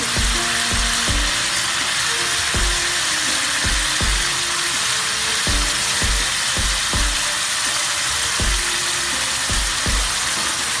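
Shallots, garlic and chili frying in a pan for Indonesian butter fried chicken, a constant loud sizzle with a series of sharp clacks and knocks recurring through it, no talking.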